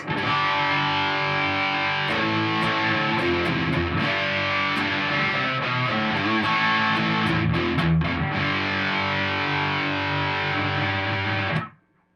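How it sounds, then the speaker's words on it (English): Heavily distorted electric guitar through an EMG bridge humbucker: thick, saturated chords and riffs played loud and continuous, then cut off abruptly. "This is an EMG set of humbuckers."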